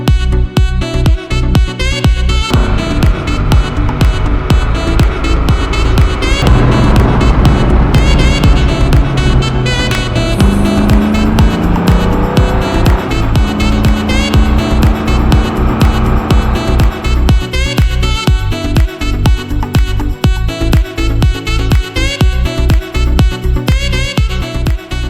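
Koenigsegg Agera N supercar on a mountain road in Croatia, a loud continuous engine drone with rising and falling pitch as it accelerates and shifts, heard steadily throughout with no talk.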